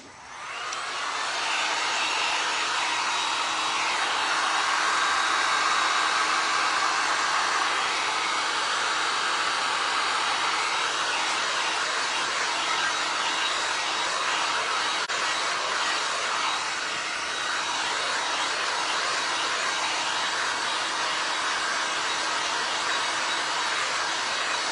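A hair dryer blows continuously on a painted glass-and-resin pumpkin, a loud, steady, close whoosh that holds for the whole stretch without pause.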